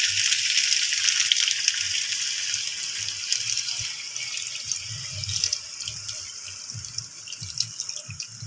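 Coconut milk poured into a pot of Filipino-style chicken curry, a steady liquid splashing and trickling that runs continuously close by and fades slightly toward the end, with no talking.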